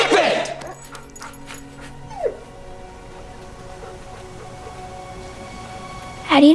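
A dog whimpers in a few short, rising whines near the start, then a brief yelp around two seconds, with another burst at the very end over a steady quiet background hum.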